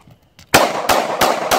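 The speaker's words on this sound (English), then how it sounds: "all you have to do after that is just simply pull your pistol out and shoot it" Pistol shots fired at a couch that has been thrown off a roof: four loud, sharp reports about a third of a second apart, each with a ringing outdoor tail, after a brief quiet lead-in.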